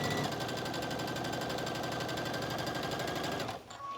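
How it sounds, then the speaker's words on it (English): A sewing machine stitching fabric runs loud and steady with a fast mechanical chatter for about three and a half seconds, then stops abruptly. "And I'm just stitching, I'm lining up my fabric right on this edge of the presser foot."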